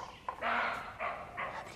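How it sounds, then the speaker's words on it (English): Three hoarse, barking calls from a roe deer in Andorra ring out one after another, moderately loud in an otherwise quiet outdoor setting. "A roe deer's barking call."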